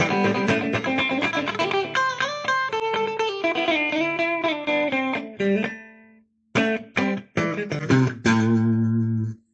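A Firefly Pegasus electric guitar plays a run of sustained notes, then single plucked notes ring out with a faint buzzing edge, loud and close with a brief gap.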